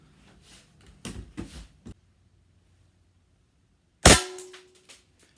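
An airsoft Glock 18C gas blowback pistol in a bullpup kit fires into a chronograph, a few sharp cracks followed after a pause by one loud close shot with a metallic ring.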